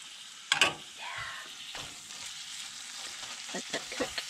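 Spiced beef sizzling in a pan for rolled tacos, a steady light frying hiss with a sharp crackle near the start and scattered clicks from stirring.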